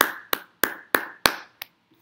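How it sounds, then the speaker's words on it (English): Hands clap about five times in an even rhythm, close and crisp, with short decays and no other sound. A softer final clap follows. "I mean, another round of applause."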